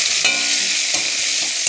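Tomato hits hot oil in a pan and fries with a loud, continuous sizzle, broken by a few spatula scrapes as it is stirred.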